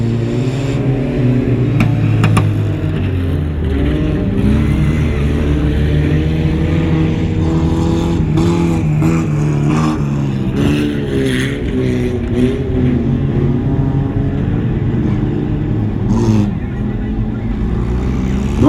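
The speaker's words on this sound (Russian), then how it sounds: "4 автомобиля двигаются." Several race cars on a dirt track, with engines droning and rising and falling continuously and fairly close, under a commentator's voice.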